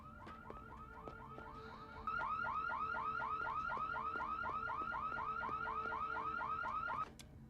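Car alarm going off in a comedy scene, a rapid repeating chirping whoop that jumps louder partway through and then cuts out, heard alone at moderate distance.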